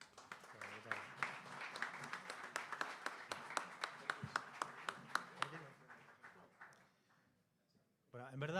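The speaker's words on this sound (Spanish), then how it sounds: "Un aplauso para Oscar." Lecture audience applauds a guest academic speaking on Sarmiento, the Constitution and the Republic, with steady clapping for several seconds that fades out, then a voice begins at the end.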